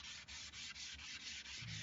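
Steady back-and-forth rubbing of abrasive on a wood finish, a continuous gritty scraping with regular strokes, close and fairly even in loudness.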